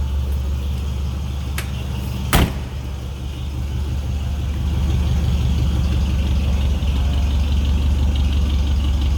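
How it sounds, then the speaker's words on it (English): A 1950 Mercury Monterey's flathead engine idles steadily with a low, even rumble, a couple of sharp clicks near the start and the idle growing slightly fuller partway through. "kind of the sound you'd expect out of that flatty coming from an old Mercury"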